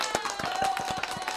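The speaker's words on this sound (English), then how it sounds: "So a round of applause, please." Brief audience applause at a live drone-build show, a dense patter of claps over a steady hum, fairly close and lasting just over a second.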